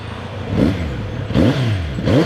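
A Kawasaki Z900RS motorcycle with about a thousand kilometres on it revs up three times in sharp, rising blips, loud and close, settling back to a throaty idle between each burst.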